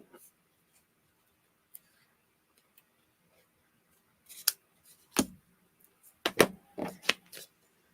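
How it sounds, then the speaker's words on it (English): Scissors snip through excess craft paper on a handmade advent calendar project, giving a handful of sharp, close cuts in the last few seconds after a mostly quiet stretch. "And now I will just cut that excess off."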